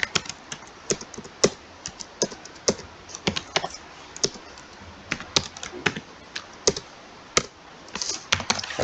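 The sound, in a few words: typing on a computer keyboard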